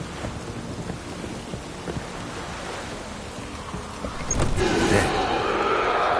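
Steady rain with a rumble of thunder in The Witcher 3, the downpour swelling louder toward the end as a distant roll builds.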